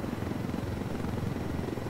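Helicopter in the Ghost Recon Wildlands video game, a steady rotor thrum and broadband engine roar held throughout at moderate level, with no talk.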